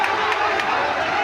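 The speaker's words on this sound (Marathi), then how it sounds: "वा टाळ्या होत आहेत तुमच्यासाठी" A dense crowd at a Dahi Handi human-pyramid event roars with cheering and clapping, loud and continuous throughout the short stretch.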